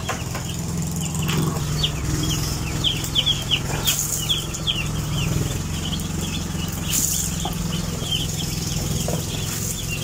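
Day-old chicks in a brooder at the brooding stage, a dense, steady chorus of high peeping from many birds over a constant low hum, with no talking.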